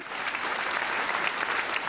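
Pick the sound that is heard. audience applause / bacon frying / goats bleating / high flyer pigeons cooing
audience applause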